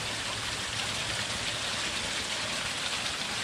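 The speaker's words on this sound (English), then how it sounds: "we've got rain galore" Steady heavy rain pours down with water running off a roof, a dense continuous hiss of close, even volume with no voices over it.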